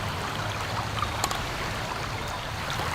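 A water sample is dumped into a waste container during stream sampling outdoors, giving a steady pouring, trickling splash beside flowing stream water for a few seconds, with no talk.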